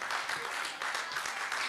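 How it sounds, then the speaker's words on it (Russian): Audience applause at a New Year 2020 celebration, a dense steady patter of many hands clapping continuously throughout, fairly close and even in loudness. "Аплодисменты."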